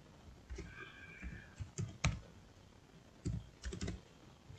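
Student ID being typed on a computer keyboard for a scholarship portal entry: scattered, irregular key clicks in short bursts, fairly quiet and close, with no voices.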